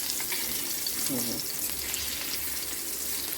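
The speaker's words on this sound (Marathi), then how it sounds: "मस्त पाच मिनटं या बाजूने पाच मिनटं त्या बाजूने फ्राय करून" Fish from a village pond frying in a pan, a dense steady sizzle crackling close and loud, with a brief low murmur under it.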